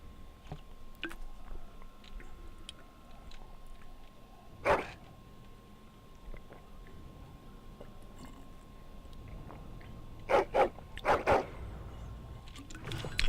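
A dog barks in the Dragon Age video game, giving a few short, faint woofs spread across a quiet stretch of game ambience, with a cluster of barks near the end.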